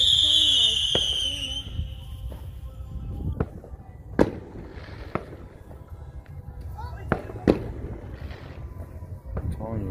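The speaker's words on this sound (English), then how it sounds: "They got the best fireworks." Fireworks at a party bang repeatedly, with sharp cracks and booms at uneven intervals and a high whistling rocket at the start, heard amid voices and outdoor rumble.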